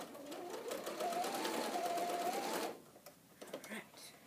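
A home sewing machine runs steadily, stitching around the corner of a fabric face mask for about two and a half seconds, then stops, followed by faint handling sounds. A voice talks over the machine.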